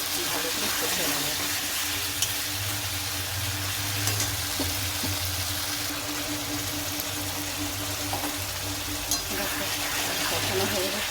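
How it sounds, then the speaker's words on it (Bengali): Potatoes frying in oil for fish curry, a steady close sizzle with occasional stirring scrapes and clinks of a utensil against the pan, a voice talking over it. "আলুগুলো দিয়ে দেবো। ভালো করে নেড়ে নেবো, ভালো করে কষে নেবো।"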